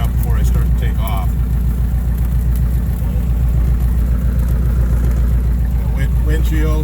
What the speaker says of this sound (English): I got to taxi in this for a little bit and get the engine warmed up before I start to take off